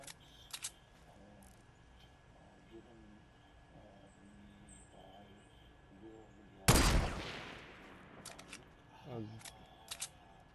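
A single loud gunshot from a Fortnite match rings out midway, standing out sharply against low game ambience and a few faint clicks and sound effects.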